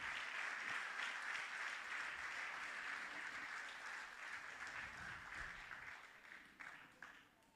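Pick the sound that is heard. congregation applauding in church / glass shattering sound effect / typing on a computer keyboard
congregation applauding in church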